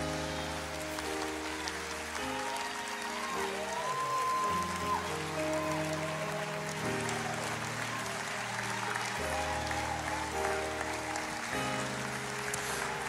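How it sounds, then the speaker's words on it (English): A church congregation claps along, a continuous patter of many hands at moderate distance, layered with sustained musical tones and no clear talk over it. "I bet if you clap,"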